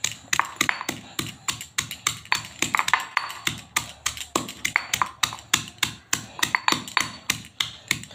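Garlic, cumin and green chillies being pounded in a mortar in a Gujarati village kitchen, a rapid steady run of close, sharp knocking strikes that goes on without pause.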